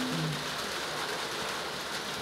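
Steady rain falls outdoors as a dense, continuous hiss of drops on surfaces, even and unbroken, with no voices.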